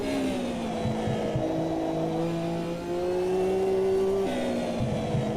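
A race car engine in the racing game Automobilista 2 holds a steady, loud drone with a rising pitch that drops abruptly near the end as the gear shifts, heard alone without talk.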